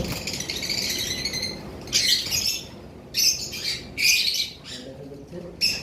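Caged lovebirds, including a blue female, letting out bursts of shrill chirps and squawks several times, close by over a soft rustling background.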